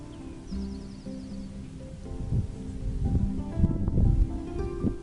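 Wind moves through leafy branches outdoors, a steady broadband rustle that swells louder and busier in the second half, with no talking.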